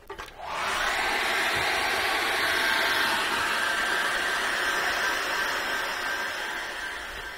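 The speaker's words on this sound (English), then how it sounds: "I'm going to dry that off with a hairdryer." A hair dryer drying acrylic paint switches on and blows with a steady, loud airy roar that holds evenly throughout, easing slightly near the end.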